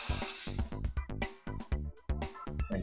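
Hairspray hissing out in a short burst onto gathered hair, followed by a rapid sequence of close, rhythmic tapping and clicking sounds.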